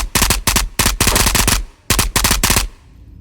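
Automatic gunfire in the VR shooter Ghosts of Tabor, loud, close bursts of rapid shots in several strings separated by short pauses, ending in a fading tail.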